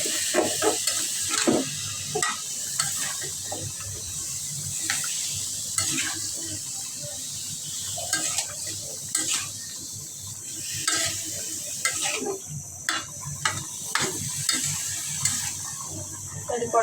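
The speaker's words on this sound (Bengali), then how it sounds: "কষাই দিচ্ছি ভালোভাবে। এবার শালগমটা আপনারা দিয়ে সবজিগুলো" Mixed vegetables and turnip are stirred and sautéed in a pan, giving a continuous sizzle with repeated scraping and clinking of the spatula throughout.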